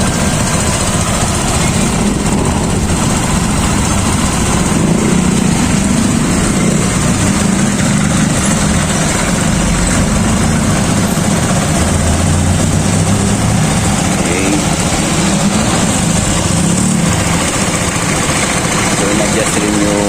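A motorcycle engine idles steadily after carburetor adjustment, a continuous close droning hum that holds level throughout with no pauses, and some faint talk is mixed in underneath.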